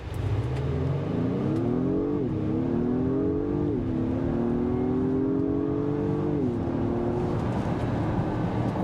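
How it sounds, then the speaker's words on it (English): A 2023 Acura MDX Type S in Sport Plus mode accelerating hard from 0 to 60, the engine note climbing steadily through three upshifts, heard from inside the cabin, loud and continuous, no talking. "I'm going to hit it and see how that 0 to 60 goes"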